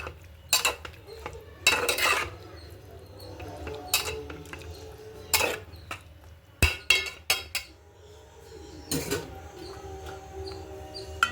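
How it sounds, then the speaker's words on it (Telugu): A spoon stirs tamarind tomato curry with dried fish in a metal cooking pot, giving several separate scraping clinks and knocks against the rim in irregular bursts, fairly close with quiet gaps between them. "ఒకసారి మొత్తం తిప్పుకుందాం ఫ్రెండ్స్."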